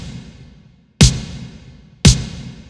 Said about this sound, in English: I got a snare that I added a bunch of reverb